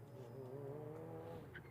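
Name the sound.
race car with motorbike engine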